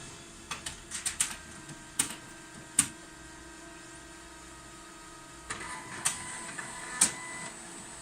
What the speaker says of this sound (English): So you switch on your machine again